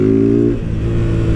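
A Honda Titan 160 motorcycle engine revs loud and close, holding a high steady pitch before dropping back to a rough idle about halfway through, with no talking.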